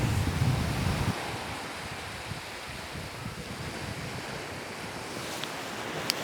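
Waves wash continuously onto a beach, a broad steady surf roar with wind buffeting the microphone, louder at the start and then evenly sustained; nobody speaks.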